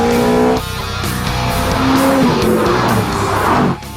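A Pagani Zonda supercar drives on a road in France, its engine roaring loudly and steadily with rising and falling revs and shifts in pitch.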